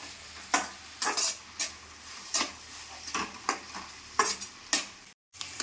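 Cumin and garam masala fry in a pan, with a soft sizzle under repeated scraping strokes of a spoon stirring the spices, close by and fairly quiet, with one brief silent gap near the end.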